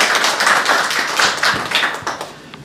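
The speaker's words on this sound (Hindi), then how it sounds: "तालियां बजाकर उनको आप दाद देते हैं।" Audience clapping at an Urdu Eid Milan mushaira in London, a dense burst of many hands that stays loud and steady before easing off slightly near the end.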